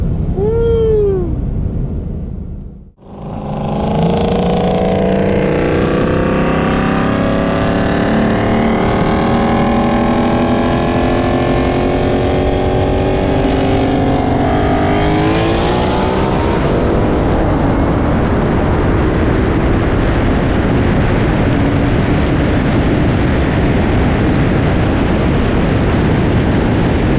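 Two modified cars, a 2022 BMW M3 Competition and a 2021 Shelby GT500, both on bolt-ons and E85, race side by side. After a brief gap, loud engine roar builds steadily with rising revs and gear changes, then fades into continuous road and wind rumble.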